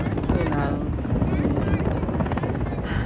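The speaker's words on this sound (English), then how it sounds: "And that's why you see one of the choppers out there." Military helicopter, loud and near, its rotor thudding continuously and steadily throughout, filling the whole stretch with dense churning noise.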